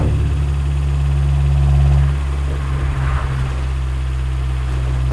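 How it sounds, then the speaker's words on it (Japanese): A Toyota AE86 with its 4A-G engine runs at a steady idle, a loud, close, continuous drone with a brief swell partway through and no voices. "4AG もいろいろバリエーションがあってね、エンジンサウンドもいろいろ楽しめます。"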